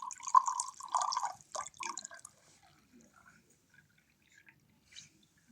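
Water splashes onto the ground in a few quick spattering bursts over the first two seconds as part of a pouring challenge, then only faint scattered drips and a small final splash in near silence.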